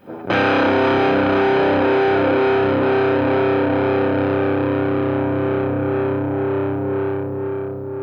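Electric guitar played through an Analog Drive pedal, one sustained chord with a thick, bluesy, old-school fuzzy distortion ringing out loud and slowly decaying over about eight seconds.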